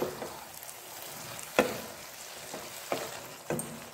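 Broccoli and potato sabzi frying in a pan while a spoon stirs it, giving a faint continuous sizzle broken by about four sharp scraping clicks of the spoon against the pan.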